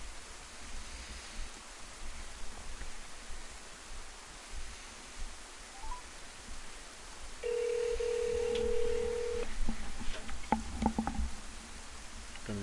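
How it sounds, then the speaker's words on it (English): A phone dialing a call, a short steady dial tone and faint key beeps rising out of quiet room hiss and background noise, brief and at low level. "just call him on the phone"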